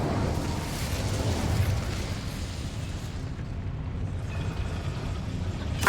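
Incendio fire spell cast in the Hogwarts Legacy video game, a dense roaring whoosh of flame that rumbles steadily for several seconds, fading slightly before a brief final burst.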